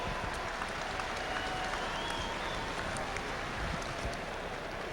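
A grandstand crowd at a two-wheel-drive super modified truck pulling event in Louisville, Kentucky gives a steady, sustained round of applause, distant and even, with no single clap standing out.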